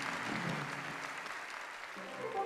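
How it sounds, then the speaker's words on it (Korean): Enthusiastic applause from a large audience in a performance hall, heard faint and distant as a continuous wash of clapping, with a brief tonal sound entering near the end. "장내에서는 열렬한 박수가 터져올랐습니다"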